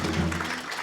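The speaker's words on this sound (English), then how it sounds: "So if you all could help me say hello and give a round of applause to our drummer, Bob Ramos." Family audience applauding at a Brooklyn Public Library bomba music event, a brief dense patter of clapping that fades slightly toward the end.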